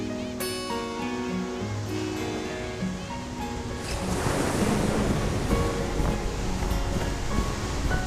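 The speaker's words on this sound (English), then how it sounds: "the Pacific Ocean brings fish to this young volcanic coast" Ocean waves roll onto a young volcanic coast of the Galapagos Islands in the Pacific, a steady surf wash with wind, swelling louder halfway through, under a faint musical backdrop.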